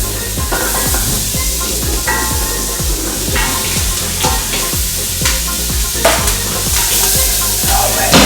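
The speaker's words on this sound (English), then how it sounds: "I'm gonna let those saute together for a couple minutes till they're soft" Coarsely chopped celery, carrots and onions sautéing in butter, a loud continuous sizzle with repeated scraping and stirring strokes from a utensil against the pan.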